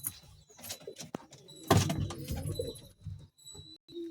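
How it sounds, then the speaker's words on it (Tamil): Pigeons in a home loft coo softly and close by, with a louder burst of cooing and wing or door rustle midway, amid quiet shuffling. "எங்கள் வீட்டிலே புறா குஞ்சு பறிச்சதுன்னா இதுதாங்க வீட்டில் பறித்த குஞ்சு."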